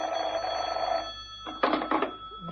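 A telephone rings in a quiet room, two short bursts of bell-like ringing after a lower hum fades, fairly close and clear with no talking.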